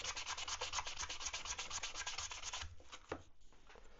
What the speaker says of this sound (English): and take a sanding block